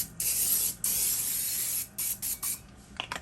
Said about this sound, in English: I'm just going to spray it with this canola oil spray.